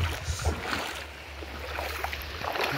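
Wading through the shallow Karmanasa river, with a continuous close rush of moving water and scattered splashes from steps. No one speaks.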